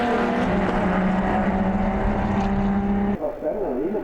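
Race cars accelerating together on the opening lap of a championship race, a loud, continuous multi-engine roar with sustained tonal whine and a brief dip in level near the end.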